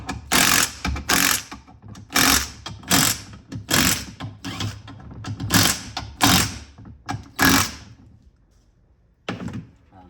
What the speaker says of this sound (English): this impact doesn't have any torque, so we're gonna do 20 foot-pounds just to be on the safe side